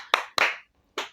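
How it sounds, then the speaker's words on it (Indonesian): Three sharp hand claps, two quick then one after a pause, from a cameraman in a quiet room during a podcast, close and crisp. "Kameramen tepuk tangan."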